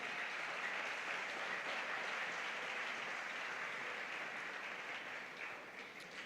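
Sustained applause from a church congregation during a sermon, steady and dense for the whole span, easing slightly near the end, with no voices standing out.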